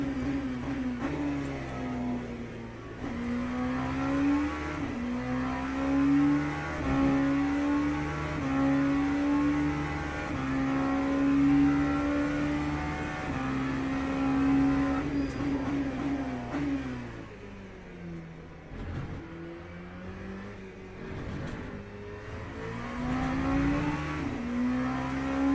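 Race car engine in the Le Mans Ultimate sim racing game drones steadily, shifting pitch as it accelerates and backs off through corners, loud and continuous with no talk.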